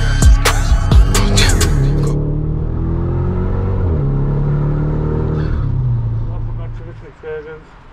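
A VW Golf Mk5 GTI with a rebuilt S3-sourced engine revs hard and close, a sustained throaty roar holding for several seconds before tapering off near the end.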